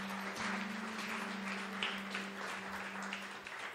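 A church congregation claps for several seconds, a soft, spread-out patter of hands in a large room with a faint steady hum behind it.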